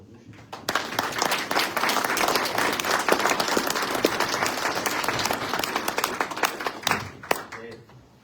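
A panel audience at a Texas history anniversary event bursts into sustained applause with dense clapping and some crowd noise, holding steady for several seconds before tapering off.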